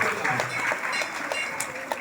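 Audience applause at a felicitation ceremony during a Lalitha parayanam programme, a dense, steady crackle of many hands clapping throughout, with some voices mixed in.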